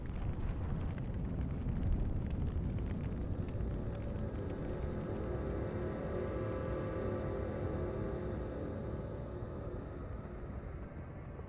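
Dragons fighting in a video game with a continuous, dense roar of fire and rumbling that holds steady at a fairly even level for the whole stretch.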